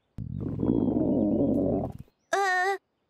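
A cartoon pig named Bruno gives a long, low, rumbling grunt that stops after a couple of seconds, followed by a short, high, wavering squeal.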